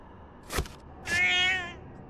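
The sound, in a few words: cat meowing in the video game Junji Ito Maniac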